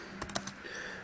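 Several crisp keystrokes tapped in quick succession on a laptop keyboard while entering an SSH keygen command, close and clear, then a quiet room.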